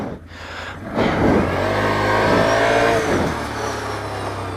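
A 2016 Can-Am Outlander L 500 V-twin quad engine revs up loudly and close by, climbing in pitch and holding a steady high rev before easing off slightly.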